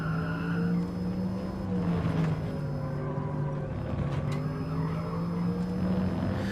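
A car slides with tires squealing in Gran Turismo Sport, its engine droning loud and steady beside a long, wavering squeal, with no voices over it.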